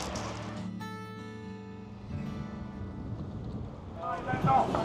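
Boat cruising on the sea off the Isle of Wight, low engine rumble and water noise under heavy wind buffeting the microphone, with a steady tone early on and rougher gusts later.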